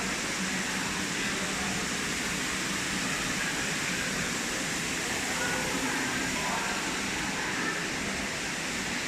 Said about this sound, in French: La cascade de l'eau là.